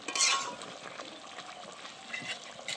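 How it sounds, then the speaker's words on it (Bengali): Chicken curry being stirred in a pan after salt is added, with soft scraping and liquid sloshing over a faint sizzle, close and fairly quiet. "নুন দিয়ে দিচ্ছি, একটু নেড়ে দিচ্ছি।"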